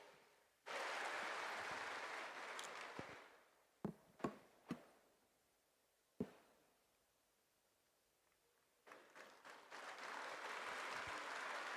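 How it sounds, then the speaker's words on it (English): Audience applause at a spiritual festival gathering, a loud sustained burst of clapping that fades out, a few isolated claps, then a second swell of applause building again near the end. "And clap for yourselves."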